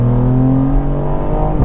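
Engine of a tuned 265bhp Mk8 Ford Fiesta ST pulling steadily under gentle acceleration past a tractor, a continuous droning hum with a slowly rising tone, heard from inside the car with no talking.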